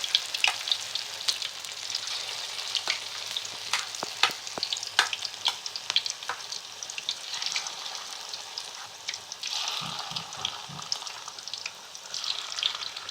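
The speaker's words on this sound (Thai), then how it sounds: "มาทอดกันเลยครับผม" Banana blossom fish cakes frying in oil over medium heat, a steady dense crackling sizzle throughout with occasional stirring clinks, close and continuous.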